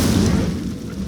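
A fire spell cast in Hogwarts Legacy, a short loud whooshing boom that quickly fades.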